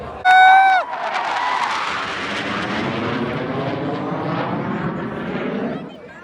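Indian Air Force Surya Kiran jets fly overhead at an air show in Dhordo, a loud, sustained roar that swells and slowly fades, with a crowd and people talking beneath it and a brief whistle or shout at the start.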